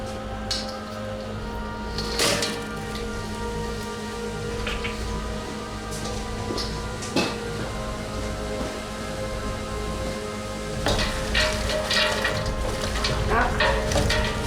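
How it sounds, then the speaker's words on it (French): Onions sizzle in melted butter in a pan, a steady close frying crackle with occasional stirring scrapes and clinks, louder toward the end. "Une fois que le beurre est bien fondu, vous pouvez y mettre vos oignons."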